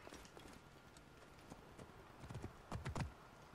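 Hooves clip-clop from a horse in the video game Assassin's Creed Origins, a faint irregular patter that builds into louder, closer hoofbeats toward the end, heard alone without talk.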